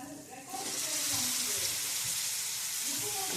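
Ajwain leaf greens dropped into hot oil in a pan, a sudden bright hissing sizzle that swells and then holds steady and loud, with faint stirring underneath.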